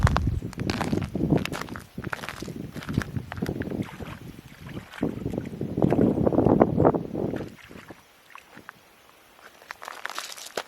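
Hands being rinsed and splashed in water outdoors at a woodland fishing hole, with steady close sloshing and dripping for about eight seconds before fading to quiet ambience.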